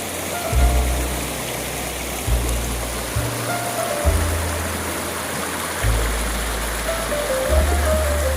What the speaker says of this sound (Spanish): Bastante agua trae en este momento, y esto se debe a las últimas lluvias.